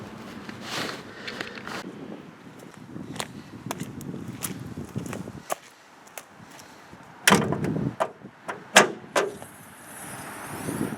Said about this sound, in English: Pull it, and the bonnet pops.